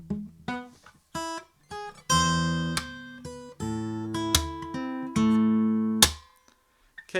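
A fingerstyle acoustic guitar plays the palm-muted section of a song: a sequence of plucked notes and chords, some short and muted, others ringing, in a steady rhythm with brief gaps, close and clear and without any voice.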